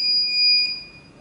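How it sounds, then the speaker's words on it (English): An active buzzer in an ultrasonic sensor project sounds a steady, shrill electronic tone, loud and close, holding unbroken with a faint click near the end. "then the active buzzer will sound as well as the red LED"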